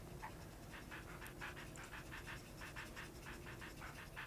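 A puppy pants in the Nintendogs video game on the Nintendo DS, with quick, rhythmic breaths repeating steadily and close over a low background hum.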